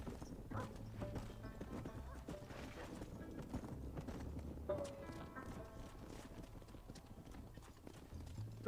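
Horse hooves clip-clopping at a steady gallop in the Red Dead Redemption video game, heard alongside a game music score and occasional whinnies, with voices talking over it at times.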